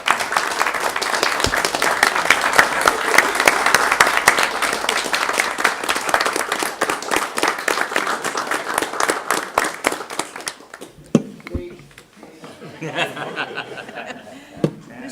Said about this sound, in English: So Tara, please stand, and we'll give you a round of applause.